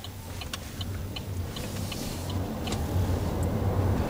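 Cabin sound of a Chevrolet Volt accelerating in sport mode with the pedal floored on a San Francisco drive, a low steady drivetrain hum and road rumble slowly swelling in loudness, with a few faint clicks.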